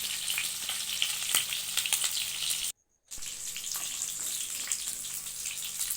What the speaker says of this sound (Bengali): চিকেন পকোড়াগুলো ভালো মতনই ভাজা হয়ে গেছে